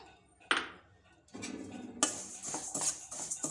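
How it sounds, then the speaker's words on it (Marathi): Sesame seeds being dry-roasted on a griddle (tava) for sankranti jaggery puri, heard as close scraping, clinking and stirring against the metal pan in irregular bursts, with no talk. "आता आपण तीळ भाजून घेऊया"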